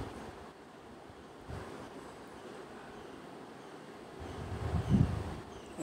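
Hilsa fish heads frying in hot mustard oil give a steady, low broadband sizzle, fairly quiet, swelling briefly louder near the end.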